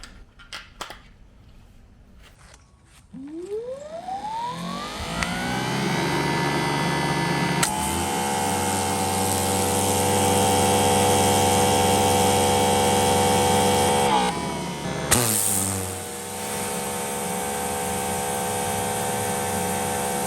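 A Greenworks Pro 3000 psi electric pressure washer fitted with a turbo nozzle starts up with a rising whine, then settles into a loud, steady motor hum and hiss of spray, with a brief dip and restart near the end.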